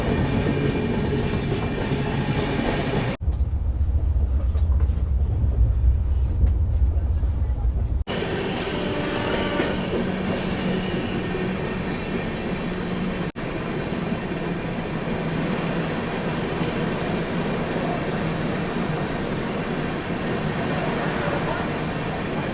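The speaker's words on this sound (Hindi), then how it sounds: "और स्लो होती जा रही है ट्रेन, जबकि आगे ग्रीन सिग्नल है उसके बाद भी स्लोली स्किप ही मार रही है।" Riding aboard the Sealdah Bikaner Duronto Express as it runs slowly, a steady low rumble and rattle of the carriages continues throughout, with a few abrupt shifts in the noise and no clear speech.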